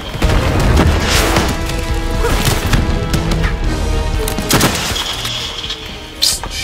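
Missile explosions in the Call of Duty Black Ops 3 campaign, a loud barrage of booming blasts and crashes in rapid succession.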